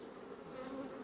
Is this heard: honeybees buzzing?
yes